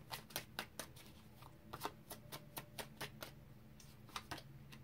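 Tarot cards are shuffled close by in quick, crisp riffling snaps, a rapid irregular series of light clicks and flutters.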